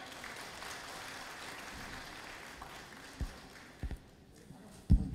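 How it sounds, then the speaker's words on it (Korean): A crowd at a Saenuri Party rally in Changwon gives faint, distant applause as a steady wash of clapping for about three seconds. It thins out into a few isolated thumps. "여러분 뜨거운 박수로 환영해 주십시오"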